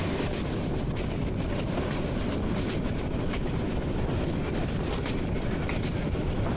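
Steady, loud rumble and rattle from inside the Tista Express running from Jamalpur to Dhaka on a rainy day, a continuous wash of rolling wheel and carriage noise with no pauses.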